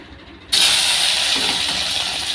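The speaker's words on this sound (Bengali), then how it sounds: "এবার আমি ডিমগুলো ভেজে নেব" Eggs dropped into hot oil in a pan, a sudden loud sizzle that bursts in and then holds as a steady hiss, close and alone.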